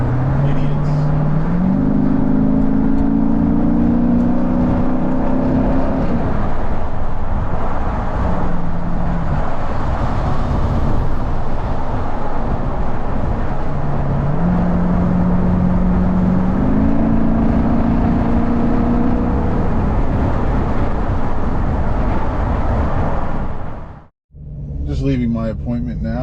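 A Jeep Grand Cherokee SRT with a GTHaus exhaust accelerates up a highway ramp, its loud exhaust drone climbing through rising gear pulls before a sudden drop near the end.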